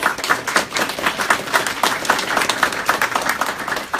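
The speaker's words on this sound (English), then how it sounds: "Why don't we give a round of applause to our panelists?" Audience at a Pennsylvania cabinet members' panel event in Tamaqua clapping for the panelists, a sustained round of brisk, dense applause from a room-sized crowd.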